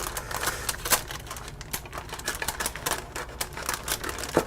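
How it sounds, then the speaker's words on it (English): Kitchen scissors snipping through baking paper at the edge of a toffee date cake, a rapid run of small crisp cuts and rustles, close and steady with no talking. "just with a pair of kitchen scissors, cut down close to the edge of that paper"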